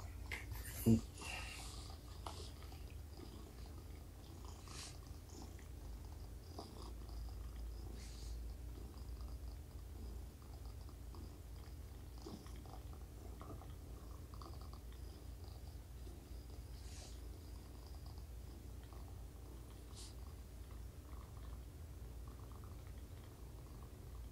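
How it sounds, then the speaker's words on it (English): A cat purrs softly and steadily up close for a long stretch, a low continuous rumble with faint background noise. "Little one's purring."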